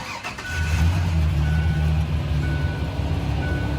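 A 1998 Ford Ranger with a freshly swapped engine fires up and settles into a steady, fairly loud idle that holds without pause, with a faint repeating beep in the background.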